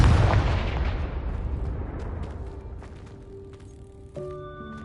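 A booming fire-blast explosion from the Confringo spell in Hogwarts Legacy, loud and close at the start, then a long rumbling decay into a softer chime-like tone near the end.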